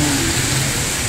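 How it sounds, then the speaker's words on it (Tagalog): Sudden rain falls in Bangued as a steady, dense wash of noise with a faint low rumble of passing traffic beneath, continuous throughout the short stretch. "hintayin ko na lang sana humina o kaya huminto yung ulan."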